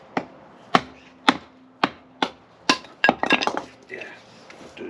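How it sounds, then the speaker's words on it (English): Sharp, separate knocks of a thick self-made 15N20 steel knife splitting wood into kindling, about six evenly spaced strikes followed by a quicker cluster of smaller cracks and clatter, close and fairly loud, with no talk. "I'm going to split down some pieces of wood to make up some kindling to form the basis of my fire."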